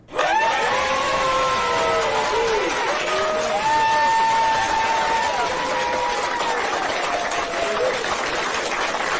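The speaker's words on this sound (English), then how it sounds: "I'm only playing the applause because I don't have a boo sound effect." A canned applause sound effect plays, a sustained wash of clapping with cheering and whistles, loud and continuous for several seconds.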